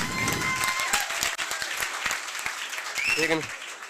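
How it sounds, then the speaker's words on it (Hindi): Students at a gurukul seminar in Haryana clap for themselves, a room full of hands producing thick, continuous applause, with a voice rising briefly near the end. "एक बार खुद के लिए तालियां हो जाए"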